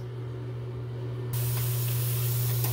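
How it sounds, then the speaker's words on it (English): Beaver meat sears in a pan on fairly high heat with seasoning, a low hum followed by a sudden loud, steady spitting hiss that lasts to the end; no talking. "I'm going to put it in the pan, and I'm just going to sear it on all the sides"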